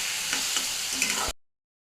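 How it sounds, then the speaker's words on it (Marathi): Tomatoes sizzle and sputter as they are stirred and sautéed in a hot pan, with scraping spoon strokes over a steady fry, ending abruptly into silence. "आपण टोमॅटो घालून घेऊ, हा सुद्धा छान मऊ होईपर्यंत परतून घेऊ."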